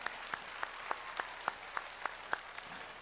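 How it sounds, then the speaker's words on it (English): Sparse, distinct hand claps at a steady rhythm, roughly one every third of a second, fairly faint and distant, sounding like a single person or small group clapping for a regional planning committee at a Saturday event. "Let's have a round of applause for the Regional Planning Committee"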